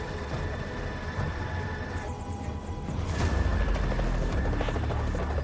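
A helicopter's rotor thumps and engine roar fill the air steadily over New York City, growing louder and heavier partway through as it passes overhead.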